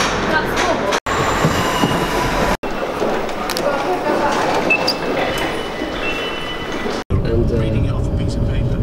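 Loud, rumbling interior noise of a moving train, with rattling and wheel squeal, broken by a few sudden cuts.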